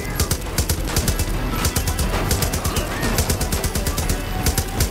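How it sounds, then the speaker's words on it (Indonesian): Rapid gunfire aimed at a rider in Far Cry New Dawn, loud bursts of automatic shots in quick repeated volleys across the whole stretch, close and dense, with hoofbeat-like thuds underneath. "Pengendaranya aja kita tembak ya."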